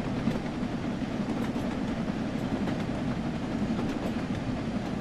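A steam train from 1950s-era Train Sim World 3 rolls steadily along the track, a dense, continuous rumble with faint rhythmic clatter and no pauses, heard on its own.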